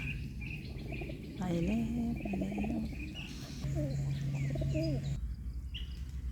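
Birds call in a leafy garden where squirrels forage, with cooing and chirping phrases rising over steady outdoor ambience, while someone speaks briefly.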